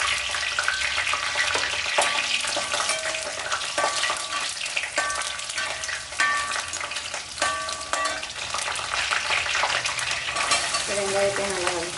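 Bay leaf, cinnamon and curry leaves fry in a pan for Chettinad wheat kichadi, a loud continuous sizzle broken by repeated spoon scrapes and clinks against the metal, close by.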